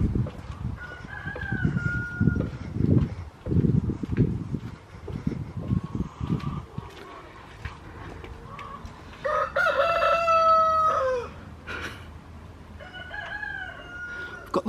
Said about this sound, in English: Got the war of the cockerels going on.